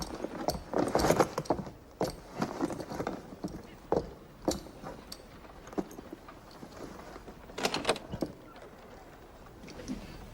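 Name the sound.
horse hooves clip-clopping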